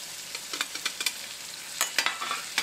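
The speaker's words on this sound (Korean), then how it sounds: "이제 잘라놓은 베이컨도 넣고 볶아주세요" Chopped bacon and pasta ingredients stir-fried in a frying pan: a steady sizzle broken by repeated scraping strokes of a utensil against the pan, close and fairly loud, with no talking.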